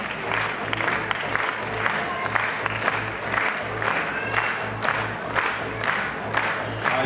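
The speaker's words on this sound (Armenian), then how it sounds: "ողջունեք, դիմավորեք ու ծափարեք յուրաքանչյուրին" Concert audience at an anniversary show on a large historic stage applauds steadily, with scattered cheers and whoops over a low, pulsing background beat and some crowd voices throughout.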